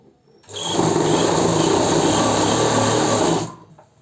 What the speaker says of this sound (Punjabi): ਆ ਦੇਖੋ ਹੁਣ ਆਪਾਂ ਇੱਕ ਲੱਤ ਦੀ ਸਲਾਈ ਲਾ ਰਹੇ ਹਾਂ